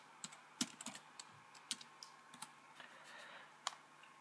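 Someone types on a computer keyboard, making soft, scattered clicks and key taps at uneven intervals in a quiet room.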